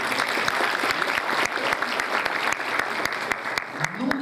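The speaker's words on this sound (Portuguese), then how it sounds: "Aplaudam ela, tá certo?" An audience at a congress workshop claps together in sustained, even applause, dense and close, with a brief voice near the end.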